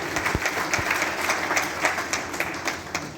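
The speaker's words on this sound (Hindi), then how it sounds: "कम से कम ताली बजाते हैं उनका स्वागत करना" An indoor audience at a public event applauds, a dense patter of many hands clapping steadily at moderate distance, with no talking over it.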